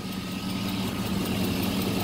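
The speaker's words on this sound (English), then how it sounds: "It's definitely got an aftermarket muffler. Listen to this." Steady, deep GMC Yukon SUV engine rumble at idle with a throaty aftermarket muffler exhaust drone, constant and close, with no talking.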